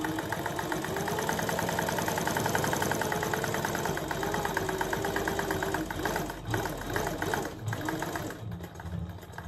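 A sewing machine runs steadily, stitching a second parallel row on a fabric cover, a close continuous mechanical whir with rapid needle knocking that eases slightly near the end.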